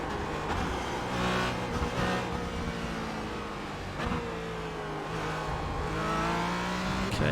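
A Porsche race car engine in the iRacing game drones and revs continuously, pitch rising and falling through gear changes, with short dips as the throttle lifts for corners.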